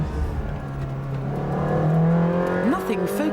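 A camouflaged Ferrari test car driving at speed on a road, steady close engine drone with rising and shifting pitch, heard alongside another car's engine while someone talks over it.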